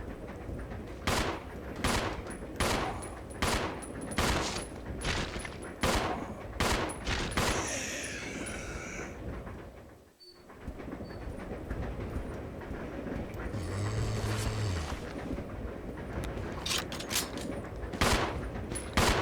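Handgun shots at zombies in Resident Evil 0: a steady series of sharp reports, close and loud over a rumbling background, with a short pause partway through before the firing resumes.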